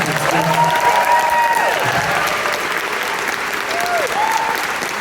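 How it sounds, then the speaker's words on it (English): Concert crowd at a show applauding loudly and steadily for a band member, dense clapping with some cheers and whistles throughout. "an extra huge round of applause for my friend Grant."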